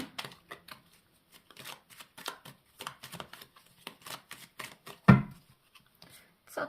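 Tarot cards are shuffled by hand in quick, soft riffling bursts repeated many times, with a single sharper slap near the end, close and fairly quiet.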